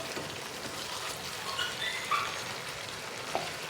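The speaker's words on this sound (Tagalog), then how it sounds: "Lagyan na natin yung sibuyas." Onions sizzle in a frying pan with a soft, continuous crackle and a few brief pops, fairly quiet and steady throughout.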